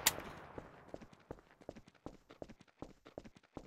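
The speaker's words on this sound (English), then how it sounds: "is this you shooting at me?" Rapid video-game gunfire cracks out in a quick run of sharp, evenly spaced shots, moderately loud, after a brighter burst at the start, with no voices over it.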